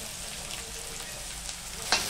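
Chopped onion, green chili and dried red chilies frying in hot oil in a pan, giving a continuous close sizzle with a brief stirring scrape near the end.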